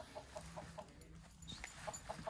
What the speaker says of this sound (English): you have a barn over here with the chickens